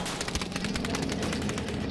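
Rapid gunfire from the video game Battlefield 5, dense and continuous, with bursts of shots crackling close and loud throughout and no pauses.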